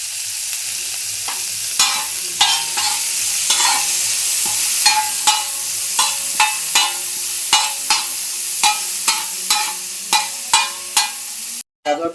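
Carrots stir-fry in refined oil for paneer chow mein, a loud continuous sizzle punctuated by a regular series of sharp spatula scrapes and clanks against the pan, with no talk.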